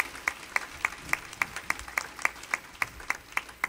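Steady rhythmic clapping from a small church congregation, even beats about three per second, moderately loud and continuing throughout.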